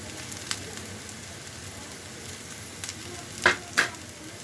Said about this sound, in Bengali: পেঁয়াজ রসুন কাঁচামরিচ একটু ভেজে নিয়েছি আর এখন ঢেঁড়স ফুলে দিয়ে দিচ্ছি